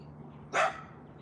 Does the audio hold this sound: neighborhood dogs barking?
yes